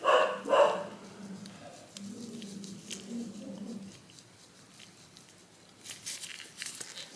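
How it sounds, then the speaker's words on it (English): Pet dog barking in a home, two sharp barks up front followed by lower muffled woofs and whines, moderately distant, with some faint crinkling and scattered clicks later on and no talking. "That would be my dog, Ripley."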